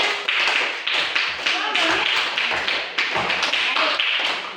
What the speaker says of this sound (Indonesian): jadi kita tepuk tangan dulu